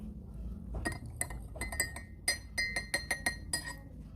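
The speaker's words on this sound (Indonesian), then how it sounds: "Ditambahkan dan diaduk." A spoon stirs water into a solution in a glass during a basic chemistry lab, giving rapid, irregular clinks and taps against the glass over a soft background, with no voices.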